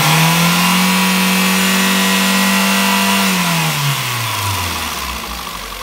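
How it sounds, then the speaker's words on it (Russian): Revved to about 5000 rpm, a Kia Picanto 1.0 G4HE engine sounds a loud, steady high whine that then falls away as the revs drop, with nothing else audible. "Работа двигателя 5000 оборотов."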